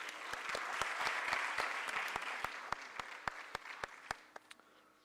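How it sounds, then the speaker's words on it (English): Audience applause after an Arangetram dance performance, a broad wash of clapping that thins out toward the end into a few scattered loud individual claps. "Let's give them a big round of applause."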